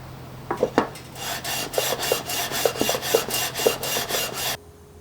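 A wooden guitar fretboard being sanded to a 12-inch radius gives rhythmic, close rasping strokes, about ten back-and-forth scrapes at an even pace before stopping abruptly.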